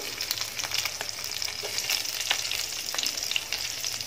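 Three green chillies fry in a pan for kuska biryani, a bright continuous crackling sizzle with a few soft stirring scrapes, moderately close and without talk.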